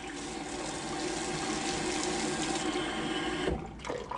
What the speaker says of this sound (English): I brought you to a running tap.